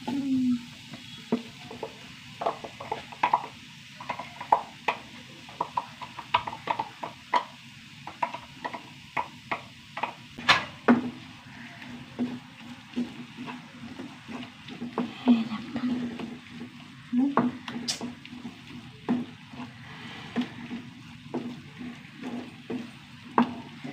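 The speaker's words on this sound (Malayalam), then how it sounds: "ഇനി നമ്മുടെ അരപ്പിട്ട് കൊടുക്കാം കേട്ടോ" Ground spice paste with chilli powder sizzles in a hot pan while a spoon stirs and scrapes in steady, repeated strokes, close and moderately loud, with occasional talking over it.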